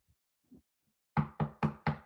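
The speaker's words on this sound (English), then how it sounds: "Knock on wood." Four sharp knocks on wood in quick, even succession, loud and close, after a few faint soft taps.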